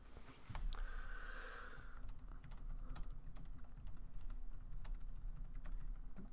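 Rapid clicking of a computer keyboard during a Football Manager 2020 live stream, steady and fairly close, running almost the whole time with no talking.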